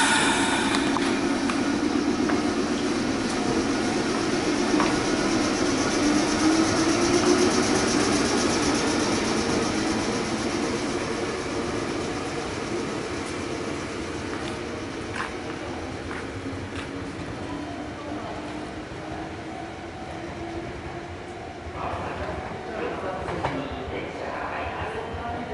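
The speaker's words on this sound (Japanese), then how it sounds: "こちら4両編成の、ね、急行一宮駅です。" Four-car Meitetsu express train at Ichinomiya station, a steady low rumble of the train idling and moving at the platform, with rising and falling motor tones and station ambience throughout; no one speaks.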